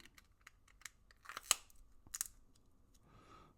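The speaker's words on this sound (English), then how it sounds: "one of the best parts of putting the coins in the capsules is the sound" Coins snap into plastic coin capsules with sharp, close, quiet clicks, a few isolated snaps and then a cluster of crisp ones, followed by a soft rustle.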